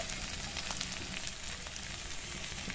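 Pepper chicken with curry leaves sizzles in a pan, a faint, steady crackle and hiss with small pops throughout, no talking.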